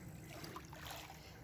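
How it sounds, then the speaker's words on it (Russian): Low, faint lapping of small waves on calm river or lake water just after a motorboat has passed, a soft steady wash with gentle splashes and no voices, heard quietly from a short distance. "Только что прошел катер или моторная лодка. И вот такие волны, как будто на море."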